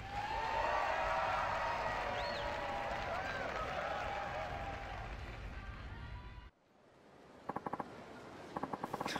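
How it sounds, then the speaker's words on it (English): In the video game Yakuza 5, a crowd applauds the winner of a special award. Thick, steady clapping and crowd noise run for about six seconds, then cut off sharply, leaving a quieter scene with a few scattered clicks. "Let's hear a big round of applause for the winner of the special award, Akari Natsukawa."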